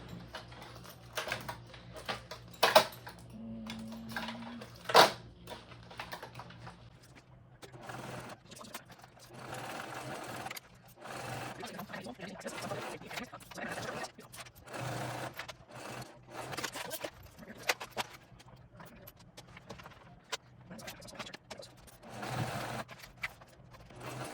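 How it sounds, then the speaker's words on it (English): A sewing machine stitches backpack pieces together for a Siena backpack, running in steady bursts of rapid mechanical clatter with brief pauses, moderately close and with no talk over it. "you're going to sew these together"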